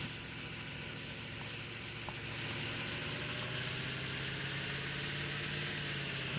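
The default SimplePlanes game engine sound, with no turbo, hums continuously at an even pitch, loud and unchanging throughout, with no talking.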